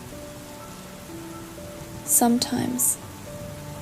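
Steady rain patters and hisses softly in the background, with a brief spoken voice over it.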